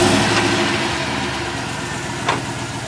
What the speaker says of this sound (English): It's pretty quiet at idle.